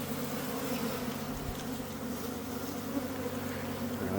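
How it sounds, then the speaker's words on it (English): A steady, dense buzz of many bees swarming from a hive hidden in the ground, close and continuous with no voices. "Now let's chase the bees out."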